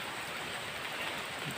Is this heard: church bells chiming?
no